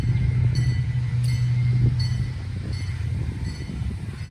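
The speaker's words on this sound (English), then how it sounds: "Here we have one of the trains going into the train yard" A freight train rumbles steadily past at moderate distance toward a rail yard, a low continuous roar with faint metallic clicks and squeaks from the wheels.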